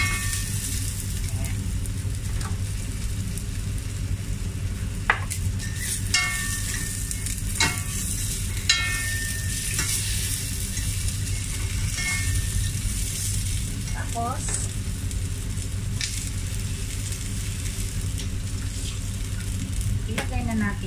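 Garlic and onion sautéing in a hot pan, a steady loud sizzle with occasional clinks and scrapes of stirring running throughout, while beef shank with white radish is being prepared.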